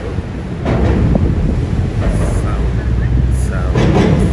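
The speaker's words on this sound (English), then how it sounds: "Seems like there's a train apparently going on the bottom." A loud, sustained rumble of a train passes over a bridge while someone travels underneath it in Istanbul, heavy and close, mixed with wind buffeting the microphone and faint voices.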